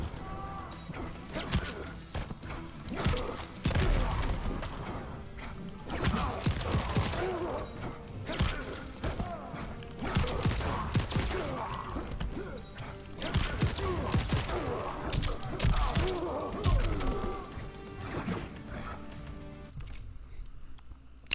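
Gunshots and combat impacts from RoboCop in Mortal Kombat 11, sharp bursts of shots and smashing hits arriving in rapid clusters with brief gaps between them, loud and close.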